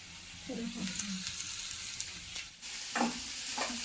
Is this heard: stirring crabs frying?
yes